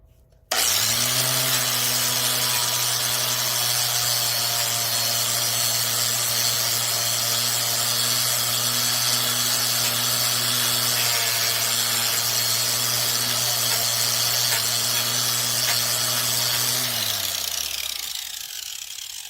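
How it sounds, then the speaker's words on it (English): Angle grinder fitted with a grit flap disc resurfacing a brake rotor, a loud, steady high whine that holds for about sixteen seconds before the motor spins down at the end. "I've kind of been tilting this grinder this way to try to get these spots on the corner."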